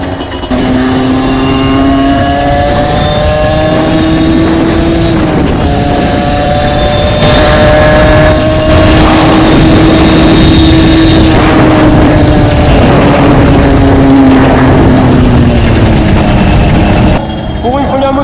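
A Derbi Senda X-Treme 50 motorbike ridden hard on tarmac, its small two-stroke engine buzzing loudly and climbing through the revs in long rising whines, dipping briefly between pulls, close and sustained.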